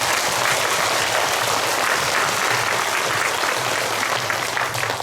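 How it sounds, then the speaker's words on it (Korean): Sustained applause from an audience at a Catholic charismatic renewal gathering in Incheon, a steady dense wash of clapping that stays loud and even from start to end with no voices over it. "박수."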